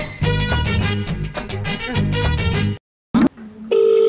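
A phone call ends with a click and a short electronic tone after a stretch of music playing over the line, followed by a brief silence and then a steady beep.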